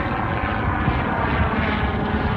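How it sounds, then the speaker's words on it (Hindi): A helicopter passes overhead at the Pakistan Air Force Museum in Karachi, a loud, continuous engine and rotor roar that stays steady throughout with no talk over it. "तो वो देखें हेलीकॉप्टर जो है ऊपर एक जा रहा है"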